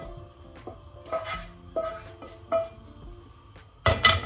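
Dishes and a pan are cleared away during cooking of an autumn salad: several scattered clinks and clatters of crockery and metal, then a louder clattering near the end, with no talk.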